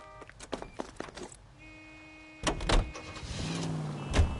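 In the L.A. Noire video game, a car door clunks and clicks a few times nearby, then the car's engine starts and settles into a close, steady running hum with a brief rev.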